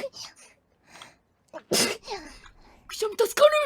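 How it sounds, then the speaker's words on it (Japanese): A young woman sneezes once in a sharp, close burst, with quieter breathy vocal sounds before it and brief chatter and another voiced burst after. "くしゃみ助かる。"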